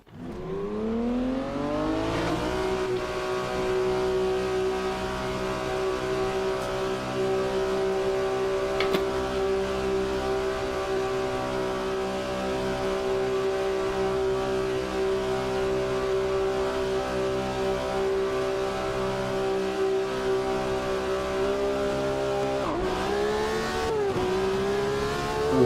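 Race car engines in the Automobilista 2 sim rev hard and steadily at the race start, a loud sustained drone that climbs in pitch as the car pulls away, with a brief shift near the end.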